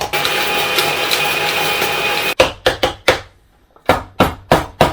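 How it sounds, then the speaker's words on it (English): Electric spice grinder whizzing toasted cumin and mustard seeds, a loud continuous whir for a couple of seconds, then a series of short sharp pulsed bursts separated by brief pauses. "Take them out to your spice grinding implement of choice and"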